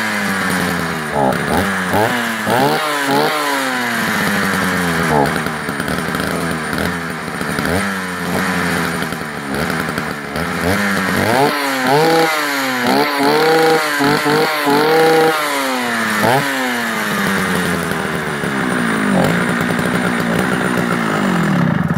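A vintage Swedish Jonsered 621 chainsaw that starts but will not idle, its small two-stroke engine firing up and revving repeatedly, pitch climbing and falling in rapid bursts, loud and close.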